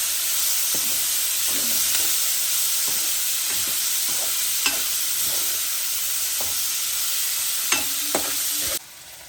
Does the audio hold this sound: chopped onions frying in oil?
yes